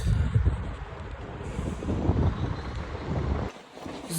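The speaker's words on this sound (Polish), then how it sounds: "jest bardzo duży wiatr, taki lodowaty" Strong, gusty, icy cold wind buffets the microphone with a steady low roar, broken by a brief lull near the end.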